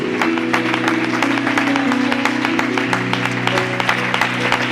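Applause from a church congregation during a sermon in Castellón, a dense steady patter of many hands with sustained tones running underneath, holding at an even, fairly loud level throughout.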